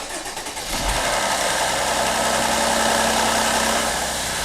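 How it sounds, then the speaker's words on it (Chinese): A Mercedes-Benz engine with about 200,000 km and a worn timing chain sprocket cold-starts, cranking briefly and then settling into a loud, steady idle with a rattling, clattering undertone that continues throughout, close up with no talking. "这个冷启动的时候哗啦哗啦的响声"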